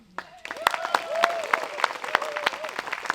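An audience claps and applauds after a theatre performance, a steady patter of many hands with sharp individual claps standing out, while a voice speaks faintly underneath.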